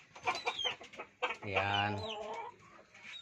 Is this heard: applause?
no